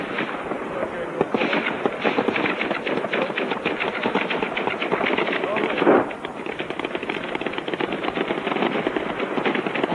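Rapid bursts of gunfire and machine-gun shooting rattle on without pause, loud and fairly close, with a sharper crack near the middle and people talking over the shooting.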